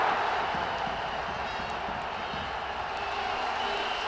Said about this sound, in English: The Mali crowd delighted.